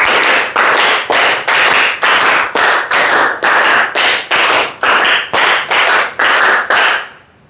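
A class of students claps in unison, about fifteen sharp claps falling in a lively, fairly even rhythm, loud and close, with no talking.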